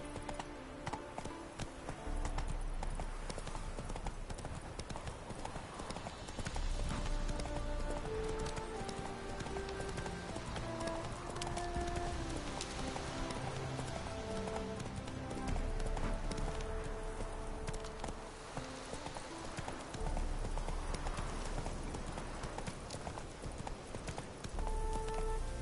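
Roach, the horse in The Witcher video game, gallops with quick, rhythmic clip-clopping hoofbeats that run throughout, close and prominent, over continuous game music.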